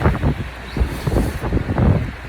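Strong wind gusting outdoors on a sunny London day, a loud continuous buffeting roar with rough low-end bursts against the microphone, no voices.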